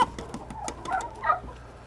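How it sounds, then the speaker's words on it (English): Chickens on a farm cluck in short, close bursts, with a louder squawk near the end, and no talk is heard over them. "oh, I stepped on a chicken."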